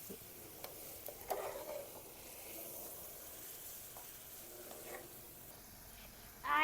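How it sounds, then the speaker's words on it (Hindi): Spices frying in tomato gravy for paya, cooked in a mud house, a faint steady sizzle with a few soft stirring clicks and a louder burst at the end. "अब ये है कि टमाटर का पानी जो है वो भी खुश्क हो जाएगा और साथ में मसाले हमारे जो है इनकी हो जाएगी अच्छे से भुनाई"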